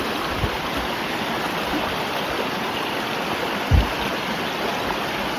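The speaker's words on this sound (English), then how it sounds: "Finally made it down to the river." A river flows at a hiking trail crossing in alpine bushland, a steady broadband rush of water that stays even throughout, with a brief low thump partway through.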